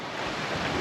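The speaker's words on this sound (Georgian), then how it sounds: "ისევ შავ ზღვა" Black Sea waves and surf roar in a broad, steady wash along a rocky shore on a rainy morning, loud and close, with wind buffeting the microphone and no talk.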